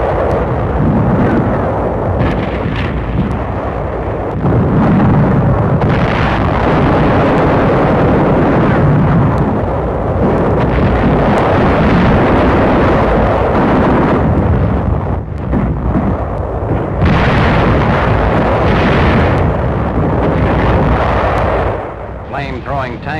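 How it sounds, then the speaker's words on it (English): Japanese 77mm guns fire at advancing tanks in wartime combat footage, with loud, continuous booming artillery blasts and shell explosions that rumble and overlap throughout. "77mm guns, which score several hits."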